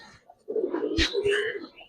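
A pigeon, a doboash hen among giribaz fancy pigeons at a bird sale, gives a short, low cooing call up close, with some broadband rustle and a sharp click in the middle.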